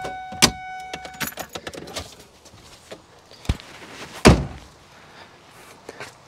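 Trunk of a Foxbody Mustang convertible being unlocked with the key and opened: a jangle of keys and small mechanical clicks, then two sharp thunks from the latch and lid, with no talk.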